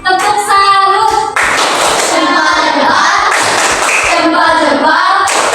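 Students in an Indonesian Pancasila classroom perform the 'tepuk salut' clapping chant: loud, close rhythmic claps mixed with chanted voices in quick patterned bursts.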